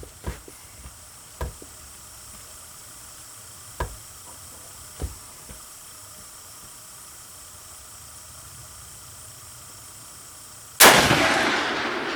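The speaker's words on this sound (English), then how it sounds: "Fire another one. Shoot another one." A 1912 Winchester Model 94 lever-action in .30-30 or a Winchester 9422 in .22 Magnum being fired at a range: a few faint, distant cracks early on, then one loud, close shot with a long rushing decay near the end.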